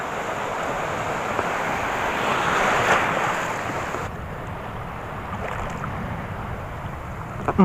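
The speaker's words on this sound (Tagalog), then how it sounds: "Ay, ang lalaki ng alon." Large ocean waves surge and wash continuously around a small fishing boat at sea, with steady loud wind noise buffeting the microphone throughout.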